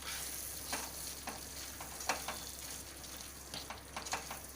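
Kadai paneer stirred in a hot pan, a constant sizzle under repeated scraping strokes of a spoon at an uneven rhythm, close and fairly loud.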